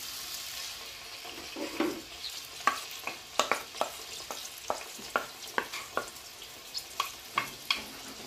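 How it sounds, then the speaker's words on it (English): Onion frying and being stirred in a pot for Nigerian jollof (concoction) rice, with a steady sizzle broken by a dozen or so sharp scraping clicks of a spoon against the pot, close and fairly quiet. "I'm going in with my onion."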